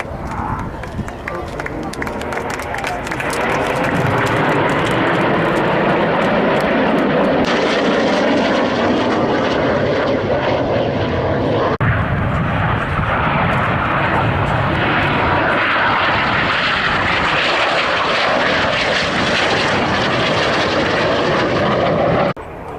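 Red Arrows jets roar overhead in a vertical break manoeuvre at the Waddington air display, a loud sustained engine rush that swells and shifts as the aircraft split, with a commentator talking over it.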